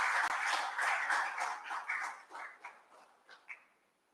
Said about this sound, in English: Mr. Idowu Oshu, a round of applause.